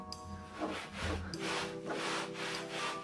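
A sponge rubs black dye onto the fabric headliner of a car or van in steady back-and-forth strokes, producing a close, loud scrubbing swish with no talking.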